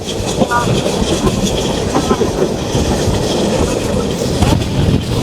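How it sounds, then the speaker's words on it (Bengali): Joyantika Express passenger train, Dhaka to Sylhet route, rolling through a railway station: steady loud rumble of wheels with rhythmic clickety-clack, heard from on board throughout. "আমাদের জয়ন্তিকা এক্সপ্রেস পোবাইল রেলওয়ে স্টেশন থ্রুপাত যাচ্ছি"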